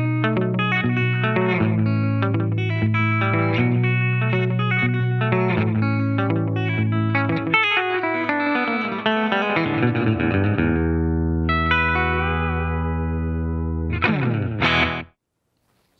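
Electric guitar chords ring through a Dispatch Master delay and reverb pedal, repeats trailing into a shimmering wash before a final strum cuts off abruptly near the end.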